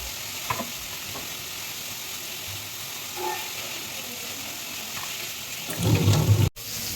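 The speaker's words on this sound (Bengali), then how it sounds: "চলো চিকেন কষা রান্না করতে থাকি" Chicken kosha is stirred and fried in a pan with a soft, steady sizzle, then a louder burst of scraping and stirring near the end.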